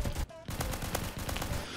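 M1911 pistol fire in the Roblox shooter Phantom Forces, a quick string of sharp gunshot cracks with a brief pause, heard fairly quietly amid other game sounds.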